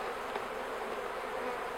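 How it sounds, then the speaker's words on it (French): Honey bees buzz steadily on a frame lifted from a small nucleus hive during a spring transfer to a full hive, a close, continuous dense hum with no voices. "les abeilles qui sont dessus, on va les secouer dans la ruche d'accueil"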